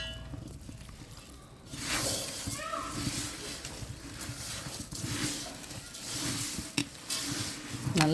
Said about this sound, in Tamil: இப்போது இதை நம்ம ஒரு பாத்திரத்தில் மாற்றிட்டு நல்லா கிளற போகிறோம்.